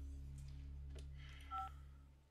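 Telephone keypad dialing tones sound as a couple of short, clean beeps over a steady low electrical hum, with faint clicks around them and no voices.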